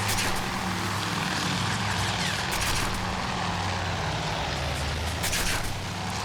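Grumman F4F Wildcat fighter in a video game air battle, propeller engine droning loud and steady while climbing, with a constant roar and no talk.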